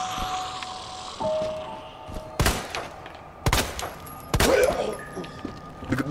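Gunfire in the video game Resident Evil 2 Remake: several sharp, loud shots spaced a second or so apart, ringing out over a low ambient game backdrop, with mechanical clunks between them.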